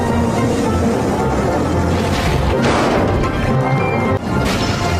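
Loud, continuous crashing and banging of diesel and steam model trains from Thomas & Friends, with heavy thuds and metallic clatter, a dense chaotic pile-up of impacts lasting throughout.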